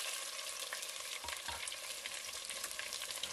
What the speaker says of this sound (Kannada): ಎಣ್ಣೆ ಕಾದ್ಮೇಲೆ ಸಾಸಿವೆ ಜೀರಿಗೆ ಹಾಕೊಳ್ತಾ ಇದ್ದೀನ್ರಿ. ಸಾಸಿವೆ ಜೀರಿಗೆ ಚಟಪಟ ಆದ್ಮೇಲೆ